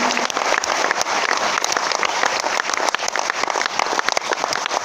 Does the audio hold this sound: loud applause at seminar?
yes